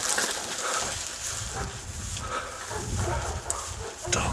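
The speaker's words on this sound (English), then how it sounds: "I can hear dogs." Dogs bark in the distance, faint and scattered, over outdoor background noise with no one speaking.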